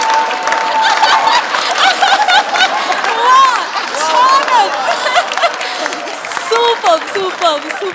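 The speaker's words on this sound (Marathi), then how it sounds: "जोरदार टाळ्या सगळ्यांसाठी" Applause from a studio audience at the Marathi comedy show Maharashtrachi HasyaJatra, a loud, steady clapping wash lasting several seconds with voices talking over it.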